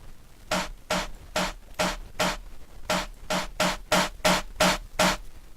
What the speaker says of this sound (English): What happens if we distort this with some overdrive?